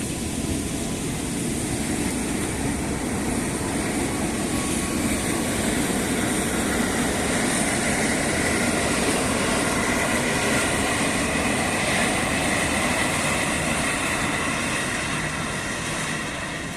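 A train rumbles steadily through Jatake station at close range, a broad continuous roar with rattling wheels and hiss that holds for the whole stretch.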